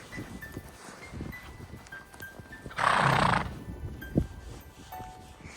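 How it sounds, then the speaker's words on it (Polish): A horse out on a snowy trail gives a loud, close whinny lasting under a second, while hooves clip-clop lightly and steadily before and after it. "super koń"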